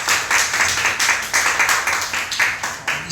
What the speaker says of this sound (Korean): 우리 다 같이 한번 환영의 박수 한번 할까요?